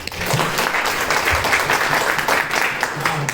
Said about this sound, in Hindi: अरुण भाई के लिए ताली हो जाए